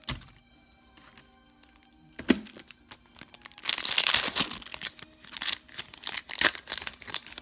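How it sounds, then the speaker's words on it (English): Yu-Gi-Oh card pack packaging is crumpled close by, starting quiet with a few crinkles, then a loud sustained burst of crinkling and crushing followed by several sharper crackles. "what I'm gonna do is try to put the packaging back in the box"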